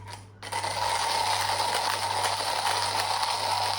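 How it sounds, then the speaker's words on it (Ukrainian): A small coffee grinder grinds Indonesian Java Frinsa Manis beans, whirring steadily after a click, a continuous mechanical buzz with a steady hum underneath, close by and unchanging in pitch. "будемо молоти каву"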